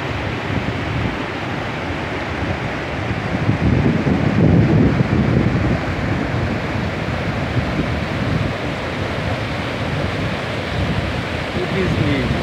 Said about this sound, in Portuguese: O desnível do relevo formou essa linda queda de água.